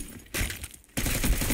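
Bursts of rapid SMG fire in Warzone, loud and close, rattling out in two dense stretches split by a brief quieter gap.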